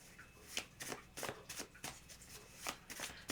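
Tarot cards are shuffled and drawn by hand in a quiet room, giving a run of soft, papery riffles and snaps that come in irregular close bursts, with no one speaking.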